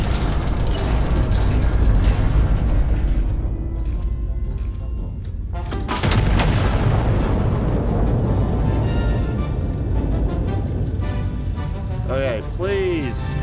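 Artillery fire in Iron Nest, heard as heavy booming blasts and a mechanical, ratcheting clatter. A voice talks over much of it, the roar swells again midway, and whistling tones follow near the end.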